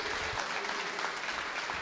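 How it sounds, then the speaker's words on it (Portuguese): A church congregation applauds during an evening celebration service, a steady, dense wash of clapping from many hands that holds at an even level from start to finish. "Aplaude o Senhor, querido"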